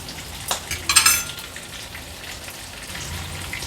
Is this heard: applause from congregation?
no